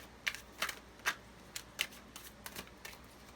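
Quiet, crisp slaps and riffles of tarot cards being shuffled by hand, arriving in an irregular series of close, soft bursts with no talk.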